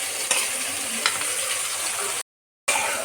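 Mutton frying with onions, garlic paste, cumin, coriander and ginger paste in a pan: a steady, close sizzle with occasional scraping stir strokes, broken by a brief dropout of silence near the end.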